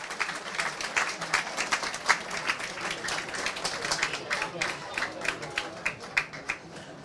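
Spectators at the Waterford Senior Camogie Final between De La Salle and Gailltír applaud Taylor Healy as she is substituted off, a sustained patter of clapping from the stands with commentary talking over it.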